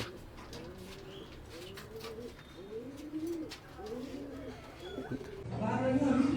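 Pigeons coo repeatedly in soft, throaty rising-and-falling calls, fairly close, over a steady background hum with some murmuring noise toward the end.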